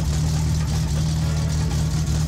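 A car engine in My Summer Car, tuned rich and blowing black smoke, runs loud and steady at a constant low drone close by with no pauses.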